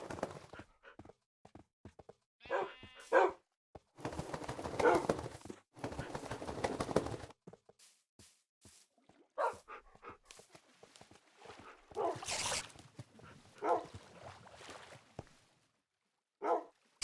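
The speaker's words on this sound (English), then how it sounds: "The whole pile of dogs going right after them." Pack of dogs barking in the survival game Lost on the Way, several short bursts of yapping spread through the stretch with gaps of quiet between them, fairly close and moderately loud.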